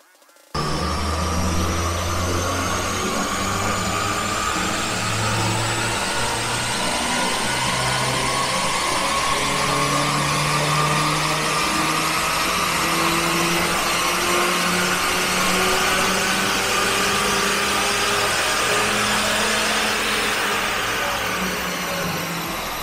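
A Mazda CX-30 with the Skyactiv-G petrol engine, tuned with adjusted ignition timing and a new air filter, is run hard, its loud engine note climbing steadily and without a break for over twenty seconds, with no talking.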